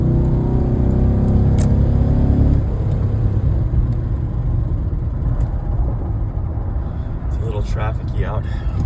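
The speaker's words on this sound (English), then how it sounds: "Wide open throttle." A Cadillac Escalade with lifter noise roars at wide open throttle on the freeway, a loud steady engine drone with road rumble and wind that eases slightly partway through, with a voice speaking briefly over it.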